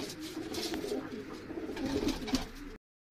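A golden pigeon in a breeding setup gives soft, low cooing, a few murmuring phrases over about three seconds, quiet and close, with no voices.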